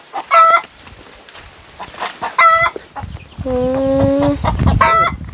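A hen about to lay an egg clucks and cackles loudly and close by, repeating short harmonic calls with a longer drawn-out squawk in the middle.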